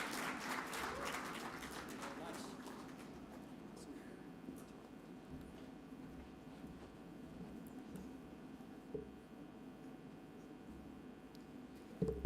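An audience applauds a speaker being welcomed onto a stage, the clapping loudest at the start and then thinning to a soft, scattered patter under faint room noise.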